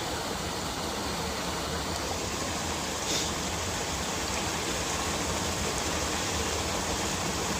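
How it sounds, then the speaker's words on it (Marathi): Fast water rushes steadily in a continuous broad hiss, with no break or speech over it. "पाण्याचं स्पीड बघा किती"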